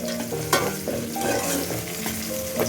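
Chopped nuts frying until golden brown for a sweet bread halwa, a continuous sizzle with frequent spoon stirs against the pan and a faint background tone.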